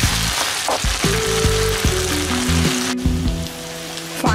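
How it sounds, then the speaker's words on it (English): Basil cubes stirred into coquillette pasta sizzling in a hot pan, a busy crackling fry with tonal scraping and bumping from the stirring, louder at first and easing slightly toward the end. "Add 2 basil drop cubes, crumble them, and stir them through."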